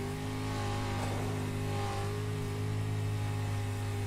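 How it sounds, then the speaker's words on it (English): Dirt track race car engine at Eldora Speedway, a steady loud mid-pitched drone with no breaks as the car is driven around a slick racetrack against the outside wall. "as you can hear him pedaling that race car around the racetrack through the slickness"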